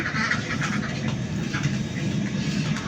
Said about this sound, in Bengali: এই যে আমাদের হাঁস এগুলো আসছে